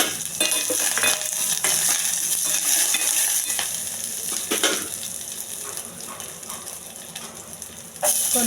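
Curry leaves and dried red chilies sizzle in hot oil for a tempering, giving a loud continuous crackle with sharp clinks and stirring scrapes scattered through it.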